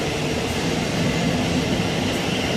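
A train pulls in along a railway line, a steady broadband rumble of wheels and carriages holding at an even level throughout with no voices.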